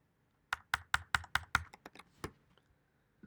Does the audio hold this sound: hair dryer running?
no